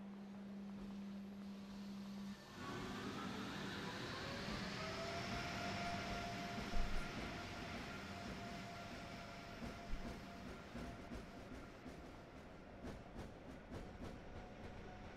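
An Amtrak Acela Express train in Train Sim World 3 pulls away after its brake is released, a steady engine tone stepping up and rising in pitch as it gathers speed, with a continuous rumble and occasional clicks.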